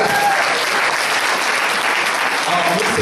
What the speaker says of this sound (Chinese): 我们掌声耶稣